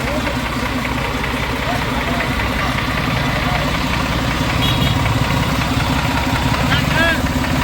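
Tractor engine running steadily at idle nearby, a continuous loud rumbling drone with a faint knocking rhythm that does not let up, with people talking over it.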